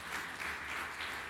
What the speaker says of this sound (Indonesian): Tepuk tangan yang meriah untuk kemuliaan Amin